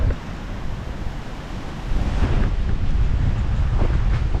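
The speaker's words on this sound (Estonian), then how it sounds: "Kuna on siuke rämme torm ja tugev tuul" Strong stormy wind sweeps along the coast near Naples, a dense roaring rush that buffets the microphone and grows louder midway, with a deep rumble beneath like surf.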